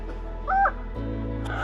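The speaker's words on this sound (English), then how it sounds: "There's a crow or whatever that is." A crow at the Grand Canyon gives one short, hoarse caw at a moderate distance, over a steady low wind rumble, with no one talking.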